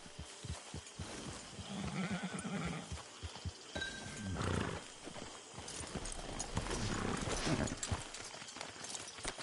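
Horse hooves clip-clopping in the Red Dead Redemption 2 video game, an irregular run of close thuds and clops with a brief whinny-like tone, over a busy background of game ambience.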